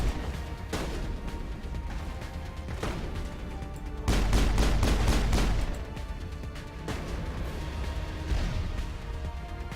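Gunfire in the Mass Effect video game: scattered shots and bursts crackle at intervals, swelling into a heavier, louder volley partway through before easing back to sporadic fire.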